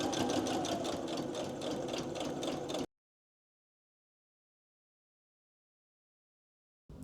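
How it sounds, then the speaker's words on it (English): A home sewing machine runs steadily around the edge of a fabric storybook, a rapid even mechanical stitching hum that stops abruptly, followed by a long silence and a brief restart at the end. "now I'm going to take it to my machine, start at the bottom here, sew around the edge and stop it about here"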